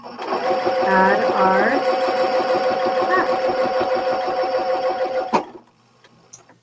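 A sewing machine stitches a pickleball paddle cover made from quilted churn dash practice panels, a steady close mechanical whir running about five seconds and then stopping, while someone talks over it.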